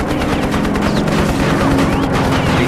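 A burst of sustained .50 caliber Browning machine gun fire aimed at a German plane, loud and continuous, with dense rapid reports and no break in the rattle.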